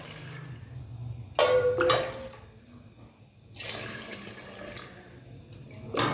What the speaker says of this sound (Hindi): चलिए पानी शामिल कर लेते हैं।